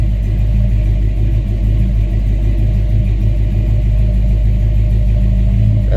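LS-swapped 1994 Chevrolet Caprice V8 idles on a Holley Terminator X MAX, its loud, deep rumble steady and close for the whole stretch with slight rhythmic pulsing.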